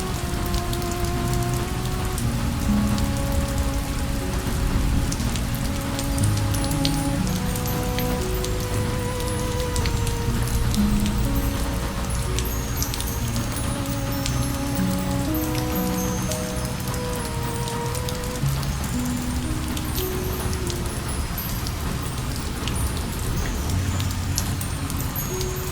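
Steady rain falls on a Japanese bamboo forest beside a slowly moving train, a dense, constant patter of drops with soft musical tones drifting underneath throughout.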